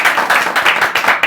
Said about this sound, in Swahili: Wapi makofi ya Grace?